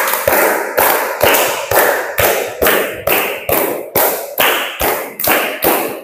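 A classroom group of teachers and participants claps in unison in a counting clapping game, sharp synchronized claps in a steady rhythm roughly every half second, loud and close, repeating about a dozen times with no talking.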